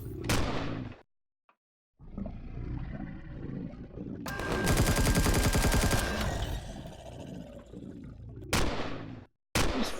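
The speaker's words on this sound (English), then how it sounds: "Who's firing at me?" Gunfire in the sci-fi survival game Empyrion Galactic Survival, loud bursts and a sustained dense volley in the middle, with brief silent gaps and sharp shots near the end.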